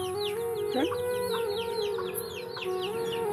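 Chickens cluck and chatter nearby in a busy, overlapping series of short calls, with a faint steady hum underneath.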